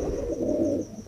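Pigeons coo nearby in a low, rolling, throaty hum that swells and fades over about a second, with no talking.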